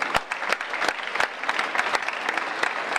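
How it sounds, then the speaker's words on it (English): A lecture audience gives moderate applause, a room of hands clapping in an uneven patter with distinct individual claps poking through, fairly close and steady for the full stretch. "I believe he deserves a round of applause"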